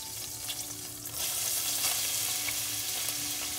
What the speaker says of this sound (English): We're gonna add in our onions here.